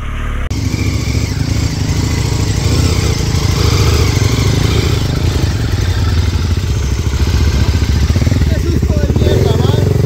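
A motorcycle engine chugs and clatters loudly and continuously at close range, working unevenly on a muddy trail with mud-clogged tyres, the bike sliding sideways, with voices heard over it.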